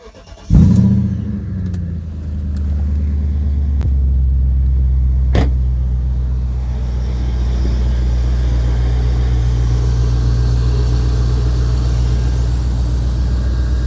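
A BMW E31 with an M60/M62 V8 cranks and fires, settling into a steady, deep idle after a belt and thermostat repair, a close, continuous low rumble with a short click or two early on.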